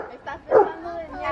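Dogs bark in a home patio during an outdoor birthday gathering: one short bark rises mid-clip, with voices talking around it.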